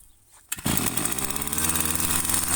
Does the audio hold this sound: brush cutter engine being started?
yes